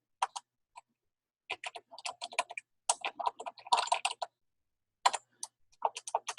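Typing on a computer keyboard in crisp, close clicks, coming in uneven bursts of rapid keystrokes separated by short pauses, with no talk.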